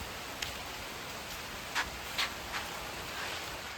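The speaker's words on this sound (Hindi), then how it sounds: "बरखा हो गया है, बिहारी में बोले तो बुनी बरस रहा है" Rain falls outside as a soft, steady hiss, heard from indoors, with a few brief louder splashes or drops standing out now and then.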